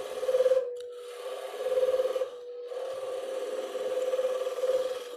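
A woodturning gouge makes a pull cut toward the headstock on a spinning lathe, a steady nearby rasping hum that swells and fades in several long passes with brief breaks between them.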